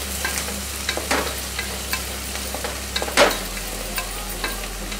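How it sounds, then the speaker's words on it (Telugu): Onions frying until brown for bagara rice produce a steady, close sizzle with scattered light stirring scrapes and one brief louder clatter near the end. "ఆనియన్స్ బ్రౌన్ కలర్ వచ్చే వరకు వేయించుకోవాలి."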